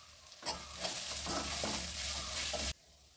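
Turmeric, garam masala and chicken masala are stirred into sizzling onions in a pan, a loud scraping and hissing burst of about two seconds that cuts off abruptly into quiet.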